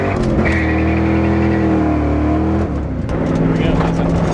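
A Fox-body Ford Mustang 5.0 V8 roars and revs hard up close while drifting, tires spinning and screeching, the pitch wavering, then briefly drops before surging again.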